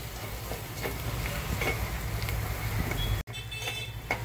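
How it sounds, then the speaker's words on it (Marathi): Turmeric frying and being stirred in hot oil over sautéed onion and garlic, a steady close sizzle with scraping spoon strokes throughout, briefly cut off near the end before resuming. "हळद आपली तेलामध्ये परतून झाली आहे"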